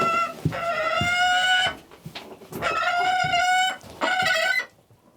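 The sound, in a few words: Arctic gyrfalcon calling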